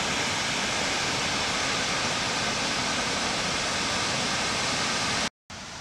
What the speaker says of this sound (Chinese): 瀑布流落嚟噶